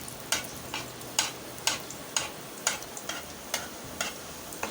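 Paratha shallow frying in oil, a soft steady sizzle under a regular series of light, evenly spaced ticks and taps, fairly quiet throughout.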